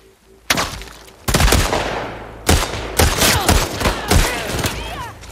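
Rapid bursts of gunfire in The Last of Us Part 2, several loud overlapping volleys and single shots over about five seconds, close and harsh, with no talking.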